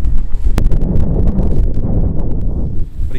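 Strong wind buffets the microphone on a mountain summit in Fiordland National Park, New Zealand, a loud, gusty low rumble with a brief sharp click near the start.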